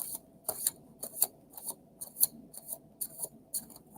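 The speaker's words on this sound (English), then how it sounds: "Okay, one more quick shuffle." Tarot cards shuffled by hand in a quick, rhythmic series of soft riffling snaps and flutters, close and fairly quiet, with no talk over it.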